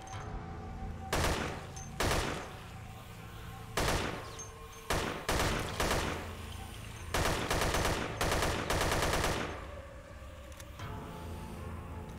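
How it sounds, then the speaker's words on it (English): Gunfire in the Dead Effect video game: repeated bursts of automatic weapon fire in clusters, loud and close, with short gaps between volleys and no talking. "I'm shooting right at your head."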